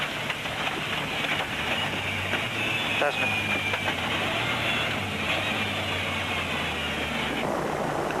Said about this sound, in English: All you can hear was the gearbox and the prop shaft whining away underneath them